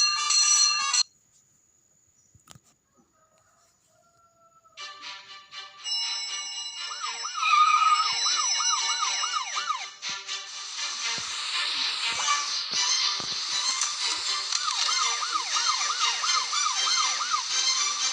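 A fire truck siren wails in a cartoon rescue scene, a synthetic rising-and-falling electronic tone that starts after a short chime and a quiet gap, then repeats steadily and fairly loud to the end.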